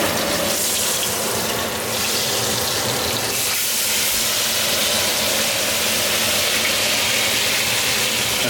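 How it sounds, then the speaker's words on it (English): A steak sears in a very hot cast iron pan with oil, giving a loud, continuous close-up sizzle and hiss that holds steady from start to finish. "you got to get really hot in order to get a good sear on this steak"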